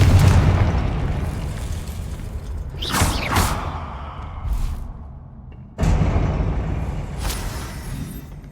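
Spell explosions from the video game Hogwarts Legacy: a booming blast with a whooshing sweep, a second burst a moment later, and another sharp loud impact near the end over a continuous rumbling game soundscape.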